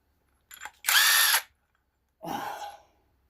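A power tool with a socket removes a bolt from a Peugeot 504 XD2 diesel engine: a short blip, a loud half-second whirr, a pause, then a second shorter burst, close up with no talk.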